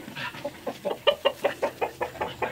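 A chicken clucks in a steady run of short, repeated calls, fairly close and moderately loud, with no talking.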